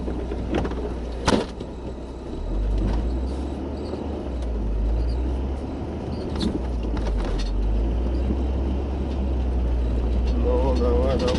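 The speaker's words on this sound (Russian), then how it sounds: "Буксует." A car stuck in deep snow spins its wheels, the engine droning loud and steady throughout with a few brief surges and knocks.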